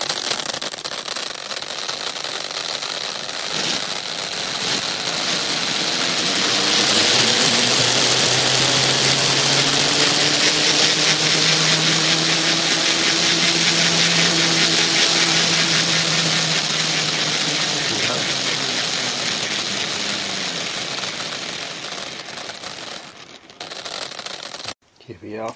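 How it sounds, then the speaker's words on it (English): A small Fischertechnik model gearbox motor powers up and accelerates in top gear, building to a steady whirring drone with rising tonal whine, then tapering off near the end. "I'm going to accelerate in top gear to demonstrate the clutch"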